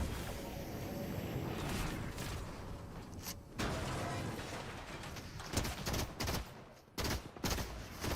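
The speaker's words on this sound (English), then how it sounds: "that burst pistol is not terrible, but it really sucks" Burst pistol fire in a superhero-season video game, loud clustered shots and rapid bursts throughout, heaviest toward the end, over a dense game soundscape.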